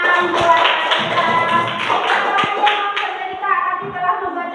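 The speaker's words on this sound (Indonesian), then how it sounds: "beri tepuk tangan buat kita" A group of children and adults clap hands in a classroom coaching session, a brisk, close run of sharp overlapping claps with scattered voices around them, fading slightly toward the end.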